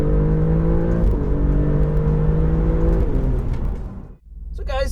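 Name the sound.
Alfa Romeo Giulia GTAm accelerating on track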